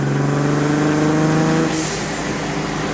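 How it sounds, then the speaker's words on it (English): Single turbo BMW 335is with N54 engine: steady droning engine note that drops off as a short airy blow-off valve whoosh releases, loud and close. "And the blow-off valve works now"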